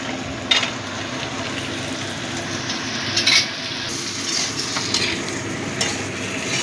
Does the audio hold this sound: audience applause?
no